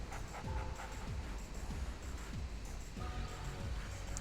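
Attack dog in Red Alert 2 panting and whimpering over busy battle noise, with short repeated yelps and barks spread across a few seconds.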